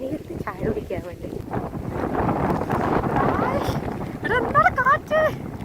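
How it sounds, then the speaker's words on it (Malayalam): Wind gusting across a microphone on the Palakkayam Thattu hilltop during rain, a low rumbling buffet that swells and fades beneath people talking. "കാറ്റ്"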